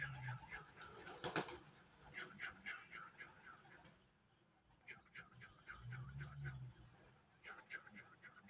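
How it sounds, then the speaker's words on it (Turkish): Repeated rhythmic cooing of pigeons in short bursts as they gather for feed, fairly quiet, with a person talking in low tones underneath. "bak kuşlara bak."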